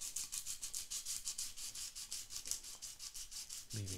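Sandpaper rubbing in quick, rhythmic back-and-forth strokes, close and soft, during a 12-string guitar restring job, with a faint low hum entering at the end.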